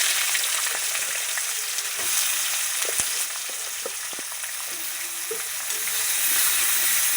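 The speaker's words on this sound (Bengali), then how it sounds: "পেঁয়াজটা ভালো করে ভেজে নেব।" Chopped onions frying in hot oil with whole garam masala and bay leaves, a steady loud sizzle throughout with occasional light clicks and scrapes of stirring.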